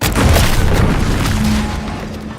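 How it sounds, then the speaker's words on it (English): A loud, deep explosion in a video game, a single heavy boom that fills the sound and rumbles on, slowly fading over a couple of seconds. "What's that? An explosion?"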